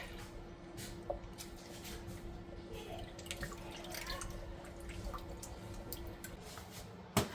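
About 300 grams of water trickles into a sourdough mixture in a bowl, a soft close splashing and dripping with no talk.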